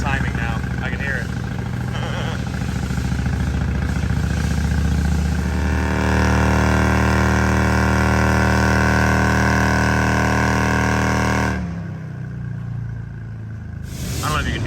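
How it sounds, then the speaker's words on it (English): Harley Road Glide engine idling after a Stage 2 cam upgrade, a steady, loud, deep rumble with strong low harmonics that drops and settles near the end, with voices talking over it. "I don't know if you can hear, but the idle sounds nice."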